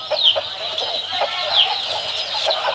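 An Aseel rooster on a free-range desi poultry farm gives a few soft, close clucks over about three seconds, with a quiet outdoor background.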